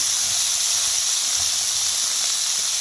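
Mushrooms with corn and string beans sauté in a pan, giving a steady, even sizzling hiss that holds constant and close throughout with no talk.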